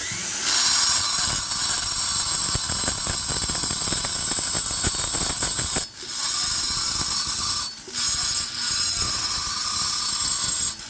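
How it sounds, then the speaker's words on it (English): Aggressive carbide burrs on a rotary tool grind a worn cylinder's intake port, a loud high-pitched whine with gritty cutting texture that runs almost continuously, dipping in a few short pauses. "I'm going to show you how aggressive these burrs are"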